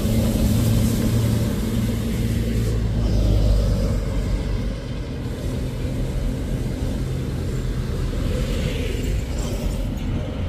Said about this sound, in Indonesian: Dua unit truk menanjak